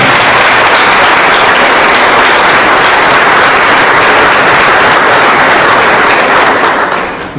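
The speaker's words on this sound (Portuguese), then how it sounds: "cumprimentar o vereador Jefferson Campo, aos quais eu peço uma salva de palmas ao senhor." A ceremony audience applauds a city councillor at a launch event, a loud, steady wash of many hands clapping that holds for about seven seconds before easing off at the end.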